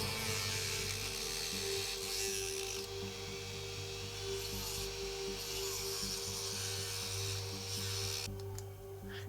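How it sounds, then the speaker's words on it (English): A Dremel rotary tool cuts the rear windscreen out of a Tamiya Beetle plastic model kit, the blade spinning fast enough to melt the plastic: a steady, close grinding rasp over a constant motor whine, running continuously. "Now what I'm doing here is cutting out the rear windscreen"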